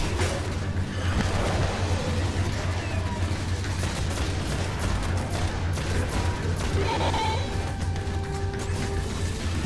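Dense, continuous gunfire and impacts in the video game Destiny, a loud sustained barrage of shots and explosions with no pauses, layered over a steady low game drone.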